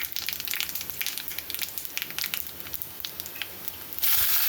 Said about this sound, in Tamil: பாருங்கள், எண்ணெய் காஞ்சிட்ருக்கு. நம்ம வந்து கடுகு உளுத்தம்பருப்பு போட்டிருக்கோம்.